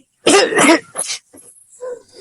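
A man who smokes bidis and cigarettes gives a couple of harsh, close coughs, then a softer throat-clearing rasp.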